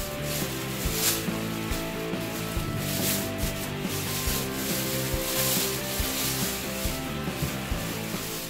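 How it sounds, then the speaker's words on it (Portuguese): A 10-inch 7Driver subwoofer speaker is pulled from a plastic bag, giving continuous close crinkling and rubbing for the whole stretch, with scattered sharper rustles and no talk. "Vamos primeiro desembalar o alto-falante desse saco plástico"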